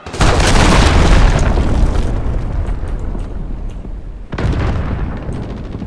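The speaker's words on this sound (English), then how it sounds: "Allied cruise missile away." A cruise missile explodes in Call of Duty: Modern Warfare (2019) Domination, a loud, close, booming blast that rumbles for about two seconds and fades. A second heavy impact hits near the end, and no talk is heard.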